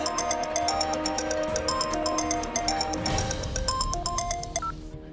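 A phone ringtone plays steadily in a repeating electronic melody, fairly loud and close, with no one speaking.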